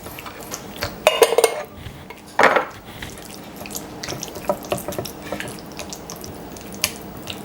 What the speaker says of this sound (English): So I'm gonna mix all of this.